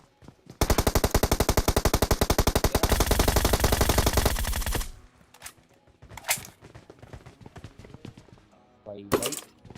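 Groza assault rifle in PUBG Mobile firing a long, rapid, loud burst of several seconds, followed by a few scattered single shots and short bursts, with faint game sounds between them.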